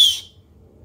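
A short sharp hiss of air whistling from a cheap $15 eBay blow off valve, one brief high burst that fades within a fraction of a second into near silence.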